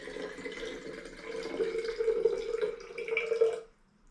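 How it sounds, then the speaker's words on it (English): Water poured through a bandana used as a filter to strain out sediment and debris, a steady trickling and dripping stream that runs for several seconds before stopping abruptly. "you're using this bandana as a filter to filter out the sediments and debris that you may have collected"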